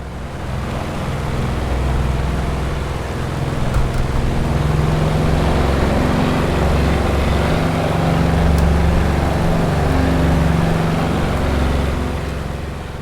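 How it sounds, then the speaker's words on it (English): A Vought F4U Corsair (Milviz FG-1D) piston engine in Microsoft Flight Simulator drones loud and steady, swelling gently as the throttle is played with, with no talk. "I think you'll agree that's got pretty fantastic engine sounds."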